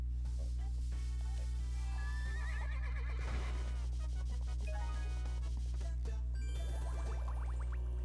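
A horse neighs in the video game Miitopia, with loud whinnies over a constant game soundtrack drone and light jingling chimes, some clip-clop effects, and no talk.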